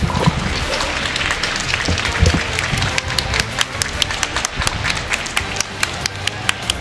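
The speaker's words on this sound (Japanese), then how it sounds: "健闘の拍手をお送りください。" A crowd at a fighting-game doubles tournament grand final claps in scattered, uneven applause while an announcer speaks over it.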